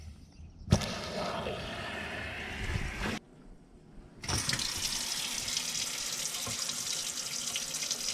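Water rushes through a motor home's plumbing from an opened tap, a loud steady hiss that stops briefly, then resumes even stronger and continues without talking.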